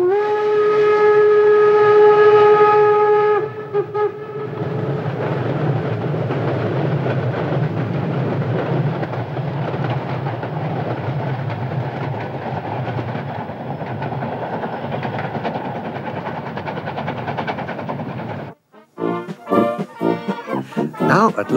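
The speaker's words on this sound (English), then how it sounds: "The meter-gauge steam railway between the towns of Wernigerode and Nordhausen" A meter-gauge steam train on the Harz railway between Wernigerode and Nordhausen sounds a loud, sustained steam whistle, then rumbles and clatters steadily along the track for a long stretch before the sound cuts to a voice speaking.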